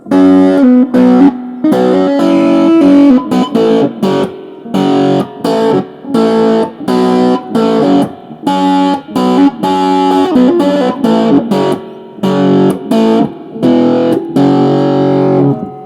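Heavily distorted electric guitar played through a Fender Japan amp, loud and close, with choppy strummed chords and short bursts separated by brief gaps, no voices.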